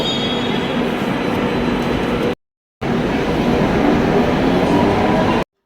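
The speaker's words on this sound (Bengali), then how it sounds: "আমাদের মেট্রো চলে যাচ্ছে আমাদেরকে ছেড়ে" A Kolkata metro train pulls away from the platform with a loud, continuous rumble and rattling wheel noise. The sound cuts out briefly in the middle, then carries on just as strongly.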